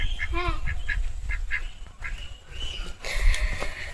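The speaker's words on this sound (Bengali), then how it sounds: "অঙ্কিতার গরম জলে হাঁস মুখ দিচ্ছিল" Repeated nasal quacks from a duck close by, dipping its bill into hot water, in quick clustered calls, followed by splashing and rustling noise.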